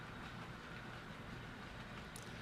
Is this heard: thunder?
no